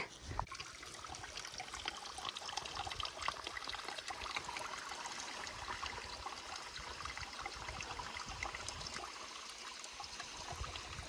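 Steady rushing and trickling of a mountain stream on the Annapurna Base Camp trail in snowy Nepal, close and continuous, with water splashing over rocks throughout and no voices.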